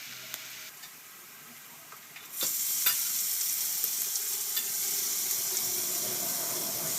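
Tomatoes tipped into a pan of frying ginger and garlic set off a loud, steady sizzle that jumps in after a quieter opening, with a few sharp clicks of stirring near the start.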